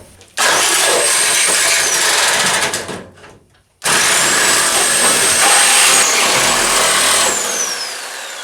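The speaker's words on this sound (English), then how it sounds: "We're gonna grab the sawzall and start cutting all this out." A Sawzall reciprocating saw cuts out the gussets on a car's core support, loud and close, with a steady harsh buzz that breaks off briefly mid-cut and then resumes.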